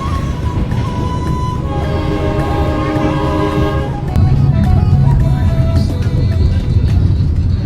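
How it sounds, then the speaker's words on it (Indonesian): Sribilah Utama passenger train pulling into Padang Halaban station, a loud, steady rumble of rail cars with a sustained horn-like tone that holds for several seconds, then broad rolling noise continues. "saat ini kereta api Sri Bila Utama telah tiba di stasiun Padang Halaban"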